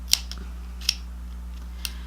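Scissors snip at a beauty sampler box package: three short, sharp metallic clicks spaced irregularly over a steady low hum, close and fairly crisp, with no talking.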